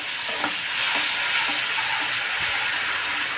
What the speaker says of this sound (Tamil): இதெல்லாம் நல்லா கலந்துக்குவோம்